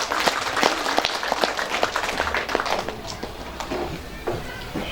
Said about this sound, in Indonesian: Kami mohon sekali lagi beri tepuk tangannya meriah kepada para khotimin dan